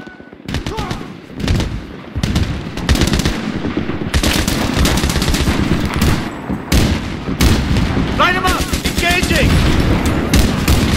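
Battlefield 3 combat gunfire: dense, loud bursts of automatic rifle and machine-gun fire with sharp single shots, close and continuous across the scene, with shouted voices in the mix.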